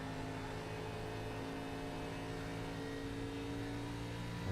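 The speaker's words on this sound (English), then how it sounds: "try and listen to how much he's lifting and floating that car in" Steady onboard engine drone of a TRJ Karting Arca Series race car in a sim racing game at Kansas, holding a constant hum with faint whir throughout, no clear lift or revving change, no talk.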